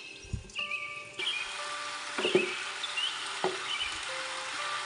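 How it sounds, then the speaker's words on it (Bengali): Boiled elephant apple stirred into spices in a pan, with a soft sizzle and a few scraping stirs, close but fairly quiet, with no talking. "সেটি দিয়ে নেড়ে চেড়ে দিব।"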